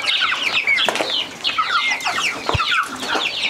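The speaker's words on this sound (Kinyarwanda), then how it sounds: "inkoko zaje kuduha karibu" Several chickens cluck and squawk nonstop at close range, with overlapping calls filling the whole stretch and no talking.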